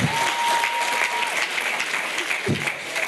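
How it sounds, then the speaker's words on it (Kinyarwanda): Audience applause at a gathering in Rwanda, a dense burst of clapping from many hands that holds steady for about three seconds, loud and close, with a faint voice briefly at the start. "muruha amashyi"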